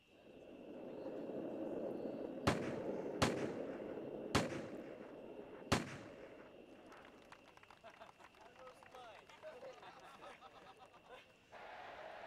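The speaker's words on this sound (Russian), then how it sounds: "В стрельбе по бегущему оленю" Four sharp gunshots at an Olympic running deer shooting event ring out at a steady spacing over a low rumbling background, followed by faint distant ambient noise.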